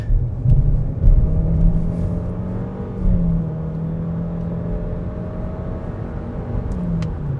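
A 2025 Chevrolet Equinox gas model in LT trim with a CVT gearbox is floored from inside the cabin. The engine drone climbs quickly, then holds at a near-constant pitch with a steady loud rumble and road noise, with no talking.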